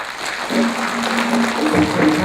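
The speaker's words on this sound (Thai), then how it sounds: "ถ้าท่านให้ได้ช่วยปรบมือหน่อยครับ" An audience at a Thai event claps on request, a short dense spell of applause with a faint tonal hum beneath, steady and fairly loud throughout.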